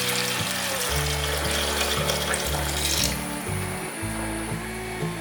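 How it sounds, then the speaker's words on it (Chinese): Boiling water pours steadily into a pot of bitter gourd pieces cooked with melted rock sugar, a continuous splashing wash running the whole time beneath a layer of steady tonal music. "倒入开水"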